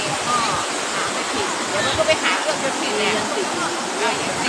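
Chet Sao Noi waterfall in Thailand pours with a steady, dense rush of falling water, loud and close, with faint voices occasionally audible over it.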